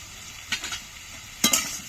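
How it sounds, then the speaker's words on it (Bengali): Potatoes and papaya sautéing with turmeric and cumin powder in a pan, heard as a soft sizzle with two short bursts of stirring scrapes, close and alone. "এবার ভালো করে কষে নিচ্ছি।"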